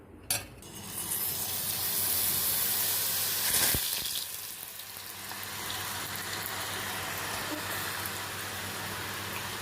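Boondi batter dropping into hot oil for kara boondi, a steady close crackling sizzle with light clinks of a ladle or pan, running continuously with no voices.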